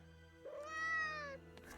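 In the video game Tales of Arise, a cat lets out a single clear, drawn-out meow, close and moderately loud over a quiet background hum.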